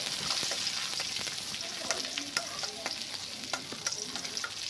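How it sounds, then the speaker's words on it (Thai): Garlic fries in vegetable oil in a pan, a steady dense sizzle with frequent stirring scrapes and small pops throughout, close and even, with no talking. "เอากระเทียมลงไปคั่วครับผม"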